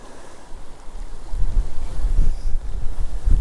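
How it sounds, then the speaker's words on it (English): Strong wind gusts buffet the microphone beside a river during a trout fishing outing, a low rumbling roar that swells louder after the first second and keeps surging in close, heavy bursts with no talking. "That wind is whipping."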